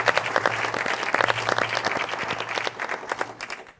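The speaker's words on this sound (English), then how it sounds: "Please, round of applause." Audience applause at a public debate on a United States of Europe, a dense wash of many hands clapping close and steady for nearly four seconds before thinning out, with a faint low hum running underneath.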